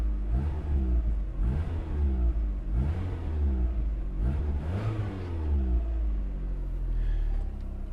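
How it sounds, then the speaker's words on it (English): A VW Golf 2 GL's engine revs up several times in repeated throttle blips, a steady close rumble with exhaust note rising and falling, no talking over it. "So I'm just gonna rev it a little bit so you can maybe hear it."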